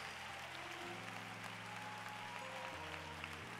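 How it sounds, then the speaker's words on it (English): A church congregation claps along steadily beneath sustained, held organ or keyboard chords, the hand claps blending into a constant wash of noise without a voice on top. "Come on, clap your hands."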